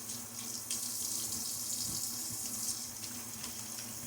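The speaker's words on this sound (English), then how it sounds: "Another splash of water." Water runs from a bathroom tap into a sink during a wet shave, a steady close hiss and splash for about four seconds with a brief stronger splash midway.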